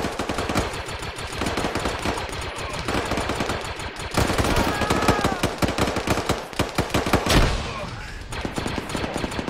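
Gunfire in a video game, with dense bursts of automatic rifle shots and single cracks rattling almost continuously, one heavy blast near the end, all loud and close.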